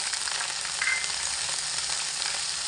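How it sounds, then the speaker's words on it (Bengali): Ginger paste and green chilli paste sizzle loudly and steadily in a hot pan with whole cardamom and cinnamon, a dense unbroken frying hiss with no voices. "এবার আমি এর মধ্যে দিয়ে দিচ্ছি একদমই আদা বাটা, 4টে কাঁচা লঙ্কা বাটা,"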